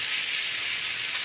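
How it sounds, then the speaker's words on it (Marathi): Mustard seeds, cumin and curry leaves sizzle in hot oil for a tempering, a steady close hiss running without a break under no speech. "चुरचुरा असा आवाज येतोय."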